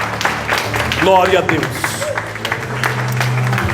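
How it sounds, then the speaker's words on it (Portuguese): A church congregation applauds at the close of a worship service, with clapping spread through the room beneath a voice calling out praise and a low sustained musical tone in the background. "Se você crê, diga amém e aplauda Jesus agora."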